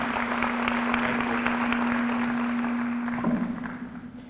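Audience applause at a community anniversary program in Camden, a steady broadband wash of clapping running through most of the moment with a sustained tone beneath it, tapering off near the end.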